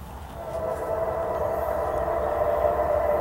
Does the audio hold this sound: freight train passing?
yes